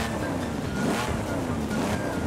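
A Lamborghini Countach LP5000 QV in Forza Horizon 5, played on a Logitech G29 wheel, gives a loud, steady engine roar with a rising and falling tone, close and continuous, with a rushing wind-like noise layered over it.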